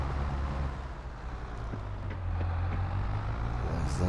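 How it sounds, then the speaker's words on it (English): A tractor engine labors under heavy load in Farming Simulator 22 on the ELM Creek map, a steady low droning rumble that swells slightly toward the end, with no voices present. "I just love how the tractor bounces and bobs, and you can hear it pull hard"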